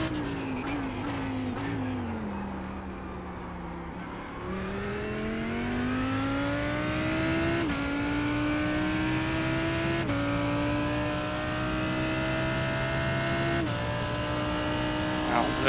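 Engine roar of GT race cars in an IMSA GTD sim race at Hockenheim GP, a Porsche approaching from behind, with steady loud engine tone rising in pitch through gear changes, close and continuous.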